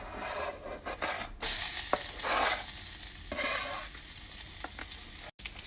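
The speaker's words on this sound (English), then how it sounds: "First, we have to put the garlic in the pan." Garlic frying in a pan for a sesame chicken sauce, a steady sizzle with stirring scrapes and a loud burst as it hits the oil, continuing alone without talk.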